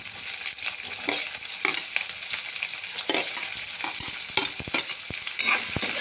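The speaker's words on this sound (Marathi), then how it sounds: "तर कांदा चांगला गुलाबी रंगावर भाजते" Chopped onion frying in a pan for rava upma, a dense close sizzle with frequent scraping stirs and small spatula knocks against the pan, loud and steady throughout with no speech.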